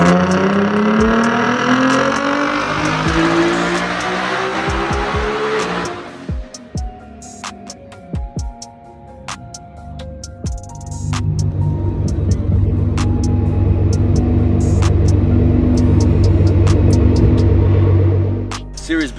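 A modified 2014 Nissan GT-R engine and exhaust roar hard under acceleration, then lift off with sharp pops and crackles, then rise again into a deep, loud rumble that climbs in pitch near the end.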